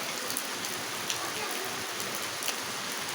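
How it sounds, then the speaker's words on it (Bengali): Steady rain pours down outdoors on a cloudy day, a dense, even hiss of drops hitting surfaces with no break or change. "অনেক সুন্দর তাই না বৃষ্টি হচ্ছে বৃষ্টি বৃষ্টি বৃষ্টি"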